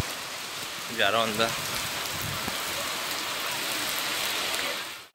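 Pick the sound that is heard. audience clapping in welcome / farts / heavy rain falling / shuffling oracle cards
heavy rain falling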